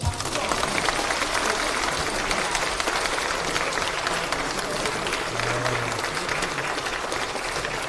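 A room of lawmakers at a People Power Party caucus meeting gives sustained, dense applause during a flower presentation. It stays loud and steady throughout, with faint murmuring beneath it.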